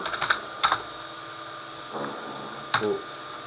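A few scattered keystrokes on a computer keyboard enter a terminal command, close and sparse, over a steady mains hum.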